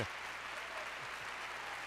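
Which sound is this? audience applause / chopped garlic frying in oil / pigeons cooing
audience applause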